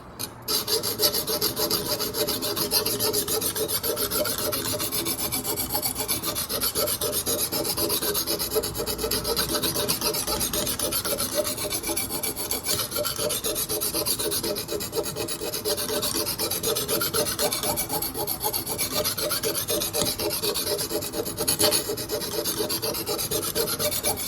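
Knife blade drawn steadily across the stone of a Lansky sharpening kit, a continuous close, rasping scrape with quick back-and-forth strokes running throughout, no voices.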